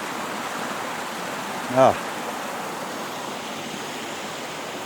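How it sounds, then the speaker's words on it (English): A stream rushes beneath a small footbridge on a solo hike, a steady broadband wash of water running throughout, with a brief spoken exclamation near the middle. "The rushing water."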